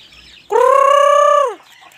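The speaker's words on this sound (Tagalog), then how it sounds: "Bago nating inahin yan." A single sustained, harmonic bird call from a hen, about one second long, loud and close, with quiet background before and after.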